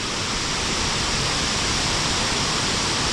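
A waterfall roars as a dense, steady, loud rush of falling water, unbroken from start to finish and heard close, with no voices.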